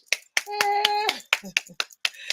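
An audience at a live talk show gives a few sharp, sparse claps with gaps between them, alongside a brief sustained vocal tone.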